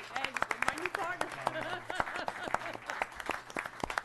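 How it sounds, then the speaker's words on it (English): Applause breaks out at a town board meeting, a short burst of clapping from the room mixed with voices talking over it. "I think you need a round of applause right now."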